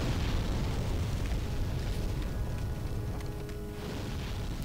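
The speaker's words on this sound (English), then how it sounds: "he really likes his body explosions" Enemy body explosions in the video game Demon's Souls produce loud, sustained rumbling blasts and booming roar that fill the whole stretch without pause.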